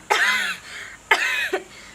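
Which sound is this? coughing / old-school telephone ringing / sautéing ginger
coughing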